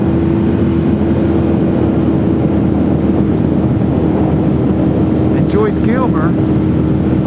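A motorcycle rides a mountain road near Joyce Kilmer National Forest, its engine a steady loud drone mixed with heavy wind rush across the whole stretch, while someone speaks briefly over it.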